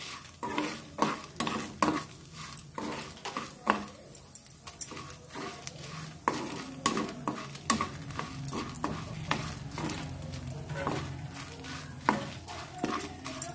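Cluster beans fry in oil and get stirred in a pan, a continuous sizzle under repeated scraping and clinking strokes that fall in an irregular rhythm, close and fairly loud.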